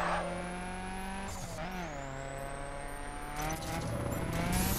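A Fiat 500 driving in the video game The Crew, its engine holding a steady whining drone that dips and climbs through gear changes, with tire squeal and skidding noises mixed in throughout.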